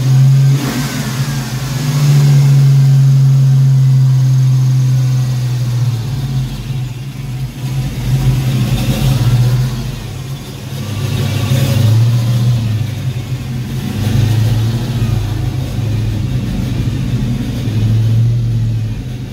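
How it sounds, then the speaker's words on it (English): Ford Foxbody Mustang engine idling on its own after weeks of running trouble, a loud close steady rumble with a slightly uneven pitch and gentle surges, no voices over it. "it's the first time it's idled on its own in a couple weeks."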